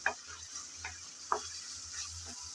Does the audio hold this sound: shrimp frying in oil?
yes